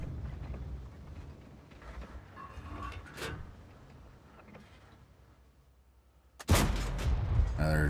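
An EBR tank gun in a tank video game fires one sudden loud blast near the end, after several seconds of quieter rumbling and mechanical battle noise with faint distant booms.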